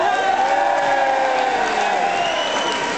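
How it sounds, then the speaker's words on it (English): Concert audience at a band show applauding and cheering continuously, a dense wash of clapping, whoops and crowd noise held at steady loudness throughout. "Can you give him a really warm round of applause?"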